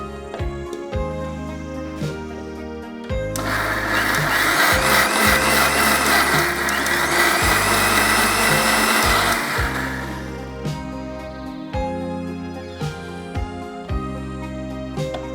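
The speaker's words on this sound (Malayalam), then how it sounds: "ഇനി ഈ തേങ്ങ ഒന്ന് ക്രഷ് ചെയ്തെടുക്കുകയാണ്." A mixer grinder crushes grated coconut with salt in a loud, steady whirring burst of about seven seconds. Background music plays throughout, before and after the grinding.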